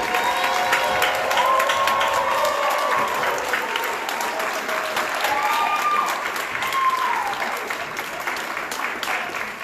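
An audience at an awards ceremony applauds its honorees with sustained, full clapping and light cheering, the sound gradually thinning toward the end while a voice or tone rises faintly above it.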